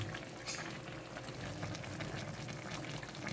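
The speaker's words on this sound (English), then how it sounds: "So the water is now boiling." Water bubbles and churns in a cooking pot at a rolling boil while tomato chicken cooks, a steady, soft, continuous gurgle with no voices.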